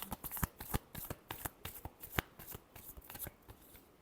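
Tarot cards are shuffled by hand in a rapid run of crisp riffling slaps and flicks, close and continuous for about four seconds with no talking.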